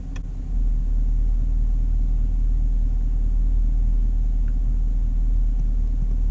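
A 2016 Chevrolet Camaro SS V8 idles in drive mode with its engine and exhaust giving a loud, steady, low rumble that settles in after a brief rise at the start and holds evenly throughout.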